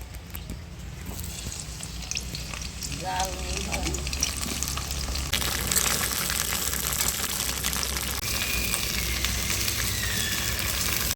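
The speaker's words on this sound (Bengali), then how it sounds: "ফুলকপিগুলো লাল লাল করে ভেজে নেব।" Cauliflower florets frying in hot oil until browned, a constant close crackling sizzle with occasional stirring, loud and continuous throughout, no talking.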